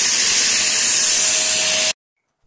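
A laptop cooling pad fan roars with a loud, steady broadband whoosh much like a vacuum cleaner, running alone at full strength for about two seconds before cutting off abruptly into silence.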